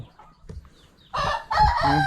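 On a farm with chickens, soft clucks and scratching give way to a rooster crowing loudly and close by in two long, drawn-out calls.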